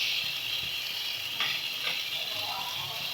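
Steady sizzling hiss of pre-fried bori lentil dumplings going into a hot pan for a raw banana and potato curry, loud and close, with a few soft stirring clinks and no talking.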